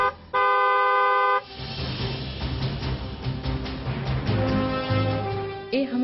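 A single steady car horn blares for about a second, loud and clear, then gives way to busy, muffled mixed noise with a few short tonal blips near the end.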